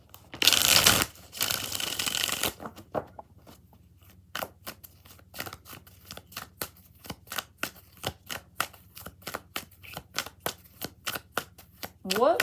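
Tarot cards are riffled and shuffled by hand, starting with a loud burst of rapid riffling, then a long run of crisp, evenly spaced flicks and taps, close and fairly quiet.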